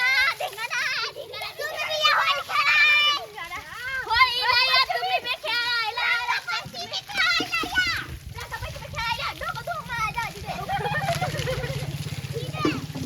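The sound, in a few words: water running, children splashing during Rangpanchami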